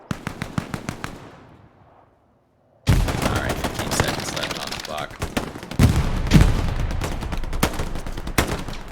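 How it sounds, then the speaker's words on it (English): Machine gun fire in an 18-versus-18 multiplayer shooter match: a rapid burst fades into silence, then dense overlapping automatic gunfire and explosions resume loudly, with a voice speaking underneath. "taking fire from an MG"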